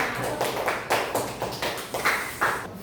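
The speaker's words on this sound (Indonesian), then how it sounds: "tepuk tangan dulu buat temannya" Classroom students clapping for their classmates, a light scattered patter of hand claps with irregular bursts, fairly faint and close, with no talk over it.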